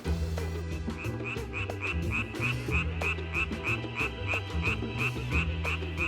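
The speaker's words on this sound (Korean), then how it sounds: "개구리 소리에 관심이 있어서 이제 우리나라에 살고 있는 개구리에 대해서 이제 소리, 짝짓기에 대해서 연구를 하고" Frogs croak in a chorus in the DMZ, layered repeating calls with a steady rhythmic pulse and a bright chirping series on top, close and continuous with no voices.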